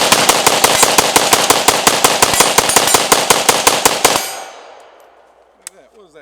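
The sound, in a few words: AK rifle firing a 30-round Bulgarian Bakelite magazine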